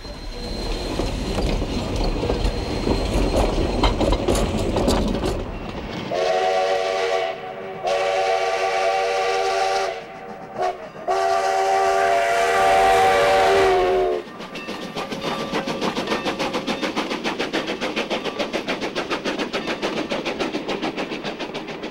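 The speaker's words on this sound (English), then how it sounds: "one of the oldest operating steam locomotives in America" One of America's oldest operating steam locomotives chugs loudly, then a long multi-tone steam whistle blows in several blasts before the rhythmic chuffing resumes.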